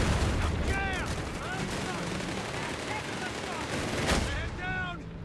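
Gunfire and shelling crackle through a Company of Heroes 3 match between Wehrmacht and US Forces, with whistling shells arcing overhead, a dense rattle of shots and one sharp loud blast near the end.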